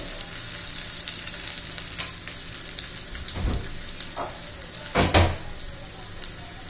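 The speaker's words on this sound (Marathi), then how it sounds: "कांदा चांगला कच्चेपणा जाईपर्यंत परतून घ्यायचा आहे" A small onion sautéing for Marathi-style dahi tadka: continuous close sizzle with a few louder bursts of spatter and stirring clatter, no voices.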